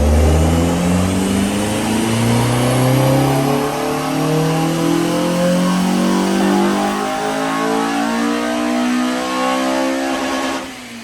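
A Honda Civic EP3 Type R with a K20 engine revs hard on a dyno, climbing steadily through the rev range in one long, loud, close pull before cutting off sharply at the end.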